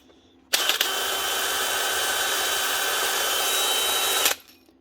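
A DeWalt DCD996 cordless drill motor, repaired after seizing, whirs at full speed for about four seconds, a loud steady high whine that starts and stops abruptly.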